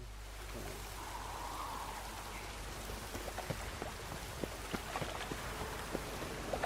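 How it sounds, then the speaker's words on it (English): Rain falling in the video game Witcher 3: Wild Hunt, a soft steady patter of drops with scattered sharper splashes, quiet and continuous over a low hum. "Looks like rain."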